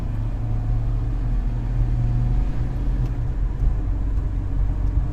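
A Volvo Amazon's engine drones and rumbles steadily under full acceleration, heard from inside the car as a continuous loud low roar with no talking.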